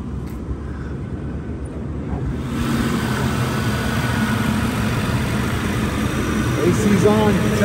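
A 1990 Cadillac Fleetwood Brougham with a 5.7 V8 idles steadily with the air conditioning running, a low, even engine rumble that rises slightly and stays constant, with a brief voice near the end.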